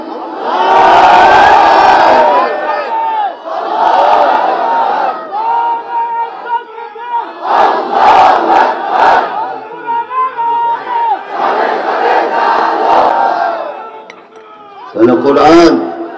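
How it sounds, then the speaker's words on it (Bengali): A large crowd at a Bengali religious gathering shouts the takbir in unison, loud chanted responses in several long, swelling waves with brief pauses between them, and a voice is heard at the end. "একবার তাকবীর দাও, আল্লাহ শুরু।"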